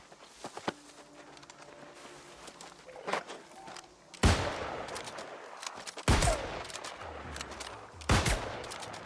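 Gunshots in the online action game New World: Aeternum. Scattered light shots and footsteps come first, then three loud, heavy blasts roughly two seconds apart, each trailing off into rumble.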